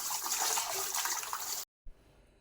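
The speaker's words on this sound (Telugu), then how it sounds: "ఇప్పుడు నీళ్ళు వేసి మంచిగా ఒక 2-3 సార్లు కడిగేసుకుందాం" Chicken pieces for a spicy country-chicken curry being washed, with a loud rush of running water that stops abruptly, then a brief soft splash before near quiet.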